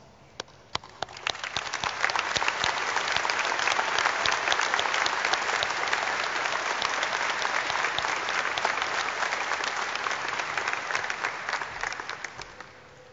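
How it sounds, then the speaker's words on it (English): A large audience gives a sustained round of applause at the Red Land High School 2018 commencement ceremony, swelling quickly and holding steady for about ten seconds before tapering off. "I invite you all to join the class in a round of applause."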